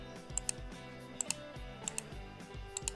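Keys clatter on a computer keyboard while a file name is typed, short bursts of clicks in uneven clusters over a steady background of soft music.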